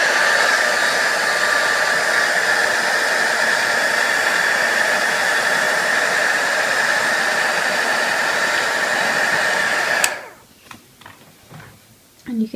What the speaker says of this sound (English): So I'll go ahead and heat emboss this.